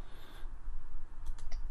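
A computer mouse clicks a button, giving two or three short, crisp, quiet clicks near the end over a low steady room hum.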